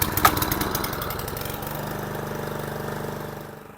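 A small lawn mower engine is pull-started, catching with a sharp burst and then settling into a steady, close, rhythmic idle that fades slightly at the end.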